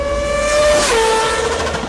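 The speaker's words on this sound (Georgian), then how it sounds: "787 bis 4-როტორიანი ძრავის ხმა ჩავლისას ყველაზე მამაც ადამიანსაც" A Mazda 787B four-rotor rotary racing engine passing by, a loud high-pitched tonal wail that drops sharply in pitch as it goes past, then fades slightly.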